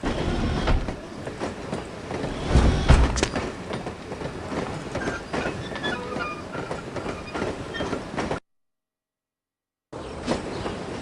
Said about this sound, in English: Is that a caboose?